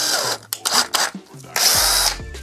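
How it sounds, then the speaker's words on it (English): A power drill whirs in several short bursts, then runs in a longer high-pitched spin, its motor pitch rising and falling, close up and loud. "Today we're going to make a drill beat with an actual drill."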